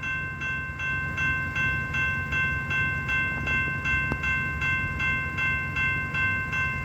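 A freight train rolls past at a grade crossing, a steady mid-distance rumble with rhythmic wheel clatter and a faint ringing tone throughout, no voices.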